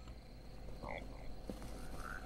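A frog or toad in the Loveland video game gives a few faint, short croaks over a quiet, low ambient hum.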